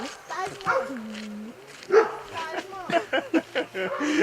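A small dog barks and yips in short bursts, mixed in with people talking close by.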